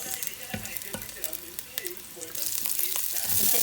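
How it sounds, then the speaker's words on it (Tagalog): Garlic fries in a small amount of oil for chicken tinola, a crackling sizzle punctuated by sharp spatula clicks that grows fuller and louder toward the end. "Y ahora, vamos a freír ajos."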